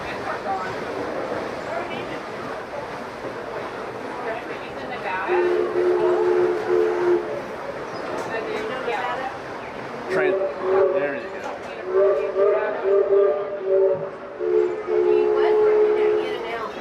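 A steam train whistle from the Disneyland Railroad at Disneyland sounds in several long, sustained blasts over a murmur of people talking nearby.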